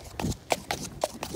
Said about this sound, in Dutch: Twee stoere paarden.